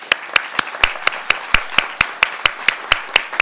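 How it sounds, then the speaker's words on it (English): A small audience at a talk on the Speaker in the Westminster system claps for three panellists, heard as a thin run of distinct, evenly spaced claps close to the microphone, like a few hands or one person clapping steadily. "if you could join me in a round of applause for our three panellists"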